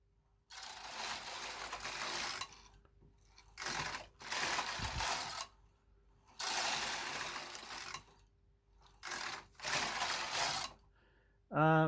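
Knitmaster Mod 150 knitting machine carriage sliding back and forth across the needle bed in tuck stitch, a series of broad rasping passes with short pauses between rows, close and fairly quiet, no talk.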